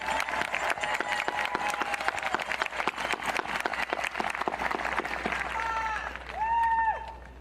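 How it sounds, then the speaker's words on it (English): A school crowd at a high school graduation claps for teachers and staff, a thinner, uneven patter of hands with sharp individual claps, fading near the end as a few whistles or cheers rise over it. "can we give a tremendous round of applause to our teachers and staff"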